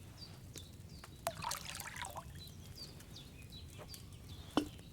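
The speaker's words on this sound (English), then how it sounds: "First, you have to pour the right base into the cauldron." Wine poured from a pitcher into a cauldron in the medieval game Kingdom Come: Deliverance, a faint soft trickle under quiet ambience with scattered light taps and clinks.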